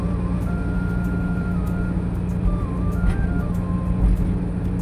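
A car cruising along a highway near Nagpur on a long road trip, a loud steady engine and road drone with tonal whine from the drivetrain, continuous and close from inside the cabin, no talking.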